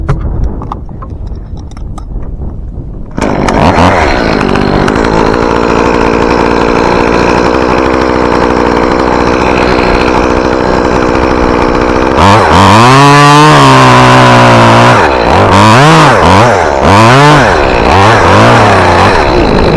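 A chainsaw cuts a red pine near a house, starting after a few seconds of quieter background. It runs loud and close at a steady roar, then revs up and down in repeated surges as the cut works through.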